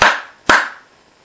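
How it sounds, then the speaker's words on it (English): Two sharp hand claps about half a second apart, close and loud, each with a quick decay into a quiet room. "I'll do a double clap."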